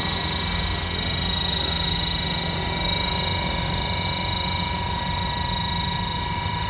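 A modified 470-size Schweizer three-blade RC helicopter with a brushless tail motor comes in to land, its rotor and motor giving a loud, steady whine with a high tonal note that swells and dips slightly.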